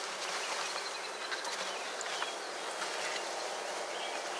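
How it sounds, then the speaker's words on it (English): A soft, continuous buzzing of honey bees from a swarm being shaken into a hive hums steadily throughout, faint and unbroken, with no voices. "we've got some bees here"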